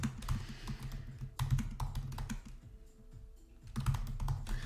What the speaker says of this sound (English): You can see me typing.